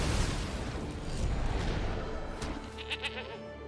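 A goat bleat sound effect in the Magic: The Gathering Arena digital card game, a brief bleat at the end of a booming, rumbling effect, fairly faint and with no talking.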